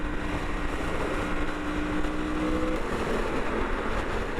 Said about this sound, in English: Listen to that cross plane, baby.